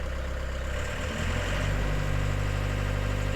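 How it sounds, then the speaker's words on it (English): A bin lorry's engine idles steadily, then its revs rise a little as the remote throttle is held, settling into a louder, even low rumble close by. "press and hold to idle the engine up"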